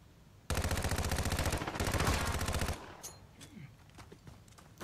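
Rapid automatic gunfire from a Call of Duty 2v2 gunfight match, a loud sustained burst of about two seconds, then scattered quieter shots and clicks.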